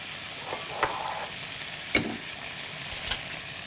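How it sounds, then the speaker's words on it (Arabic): Meat sears in a very hot pot for Libyan soup, a steady close sizzle broken by a few sharp crackles and spatters as pieces hit the hot metal. "هنجيب اللحمه ونحطها. انا طبعا مسخنه الحله جدا"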